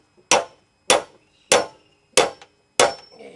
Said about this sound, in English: Give it a little tap with a hammer.